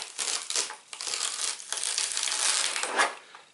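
A serrated chef's knife saws through a stack in a knife cutting contest, giving a continuous close crunching, crinkling rasp over about three and a half seconds with a few brief dips between strokes.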